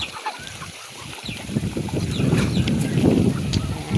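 Several domestic ducks quack and chatter nearby on a farm, with splashing and water movement growing louder over a few seconds, and a few sharp bird calls overhead.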